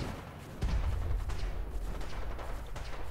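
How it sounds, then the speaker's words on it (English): Distant gunfire from a large battle in Fallout 4, a burst of low booming shots rolling in at moderate level with scattered crackling reports, no talking. "Who's shooting at me?"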